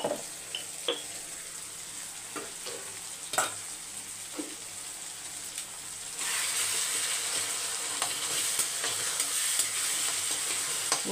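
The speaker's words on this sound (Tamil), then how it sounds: "தக்காளி வதங்கட்டும்." Tomato masala sautés in a pan, giving a low sizzle broken by a few stirring knocks, then a louder, fuller sizzle for the last few seconds.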